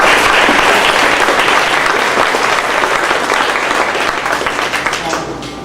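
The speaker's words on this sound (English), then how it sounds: "So give yourself a round of applause." Loud audience applause filling the room at an autism awards ceremony, dense continuous clapping that tapers slightly toward the end.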